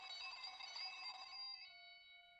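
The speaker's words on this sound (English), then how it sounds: "The phone ringing." A telephone in a video game rings with a bright, buzzing electronic trill that holds steady, then drops to a thinner tone as it fades out.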